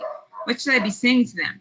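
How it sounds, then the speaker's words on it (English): A pet dog barks at home in quick, yappy bursts mixed in with someone talking close to the microphone, so the barks and the speech overlap. "I don't know if you can hear my dog barking"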